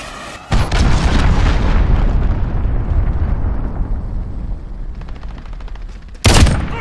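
Cruise missile strike in Call of Duty: Modern Warfare multiplayer, a loud sustained rumbling blast that rolls on for several seconds and fades, followed by a sharp, bright second impact near the end.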